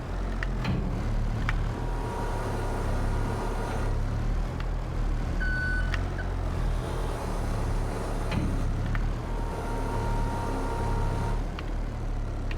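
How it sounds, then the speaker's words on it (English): A truck in Farming Simulator 22 being loaded with easels, heard as a steady low engine drone with a brief reversing beep partway through and faint clunks over a continuous rumble. "Let me get these easels onto the truck to make some space."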